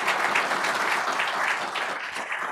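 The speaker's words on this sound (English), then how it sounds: "give them a big round of applause today" Applause from an audience at a community business association's annual report event, steady dense clapping throughout at even loudness with no talking.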